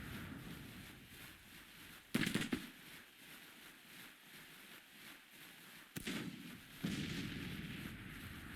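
Gunfire in the Civil War strategy game Grand Tactician, two bursts of rattling musket volleys and booming artillery standing out from a steady background of distant battle noise, with no voices.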